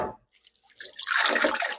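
Water splashes over hands to wet them while peeling beetroot for juice; after a short near-silence comes a brief, close rush of running water that builds and continues to the end.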